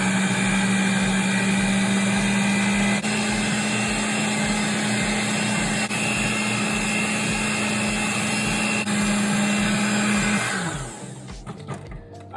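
An electric mixer whirs steadily through coconut pound cake batter, a loud constant motor hum that runs for about ten seconds before winding down and stopping near the end.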